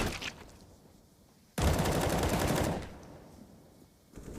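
Rifle spray in CS:GO: a sudden loud burst of rapid automatic fire lasting about a second, dense and rattling, then a quieter tail and another burst starting at the end, with no speech.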